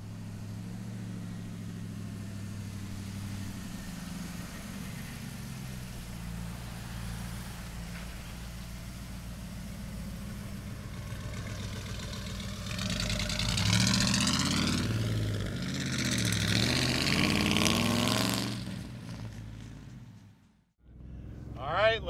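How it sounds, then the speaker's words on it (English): A 1997 Ford F350 XLT one-ton four-wheel-drive pickup engine idles steadily at close range, a low rumbling drone that rises in a brief rev near the end before cutting off. "We got our one ton four-wheel drive 97 Ford pickup truck"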